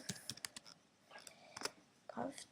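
Typing on a computer keyboard, entering a search for Minecraft: short bursts of quiet, close key clicks in a few clusters, with faint background noise between them.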